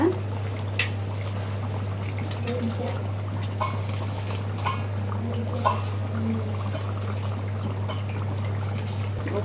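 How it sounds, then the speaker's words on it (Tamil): Basmati rice goes into a pot of boiling water for chicken biryani, with soft watery pouring and bubbling heard close over a steady low hum, and a person talking at times. "இங்கே பாருங்கள், நல்லா ஒலை எப்படி கொதி வந்துன்னு இருக்கு. இப்போ வந்து அரிசி சேர்த்துடலாம் நம்ம."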